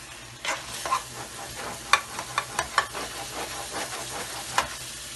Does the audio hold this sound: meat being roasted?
yes